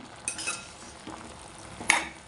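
Avial being stirred in a clay pot, two or three brief scraping and clinking strokes of a spoon over a faint background.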